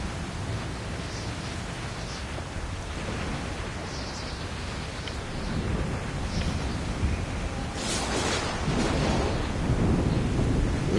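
Thunderstorm with steady heavy rain in a video game, a dense, continuous roar of rain and wind that swells louder toward the end, with a low rumble of thunder underneath and no talking.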